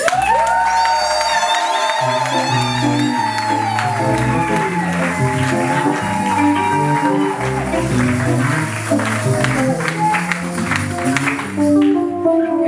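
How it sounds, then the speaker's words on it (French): A wedding crowd cheers, whoops and claps in celebration, a dense continuous wall of voices and applause with music running underneath, loud and close. "Mais on acclame Jésus."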